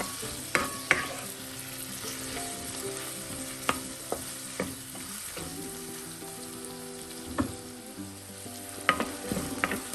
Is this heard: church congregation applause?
no